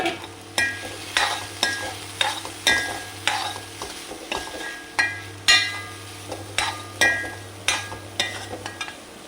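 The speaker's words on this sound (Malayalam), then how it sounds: "ഇനി അതിലേക്ക് 2 മുട്ട, ഉപ്പും കുരുമുളകും പൊടി ഇട്ട് പൊരിച്ചത്" Two eggs with salt and pepper fry in a pan for fried rice, a soft sizzle broken by repeated spatula scrapes and metallic clinks in a regular stirring rhythm, close and with no talk.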